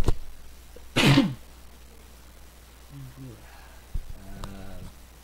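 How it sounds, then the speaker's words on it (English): A single loud sneeze bursts out near the start, followed by quiet murmuring and a few faint vocal sounds. "Uh-oh, I feel a sneeze going on."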